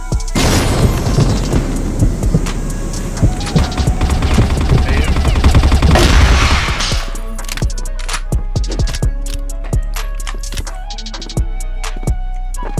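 Shooter video game combat with a big grenade explosion and a dense rumbling blast that fades into scattered sharp gunshots, loud throughout.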